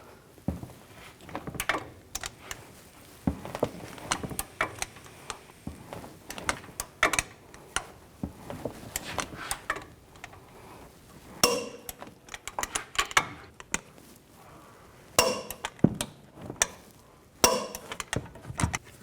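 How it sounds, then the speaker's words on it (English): A torque wrench tightens the upper control arm bolts on a 2007-2014 GMC Sierra 3500HD to 140 foot-pounds, with repeated sharp metallic clicks and clanks in irregular bursts and no talking. "Now I'm going to torque these to 140 foot-pounds."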